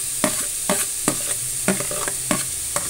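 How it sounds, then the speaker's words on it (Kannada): Grated carrots fry in ghee for carrot halwa, a soft crackling sizzle punctuated by about six rhythmic scraping stirs of a spoon against the pan, close up with no talking. "ಸ್ವಲ್ಪ ತುಪ್ಪದಲ್ಲೇ ಸ್ವಲ್ಪ ಫ್ರೈ ಮಾಡ್ಕೋಬೇಕು ಕ್ಯಾರೆಟನ್ನು."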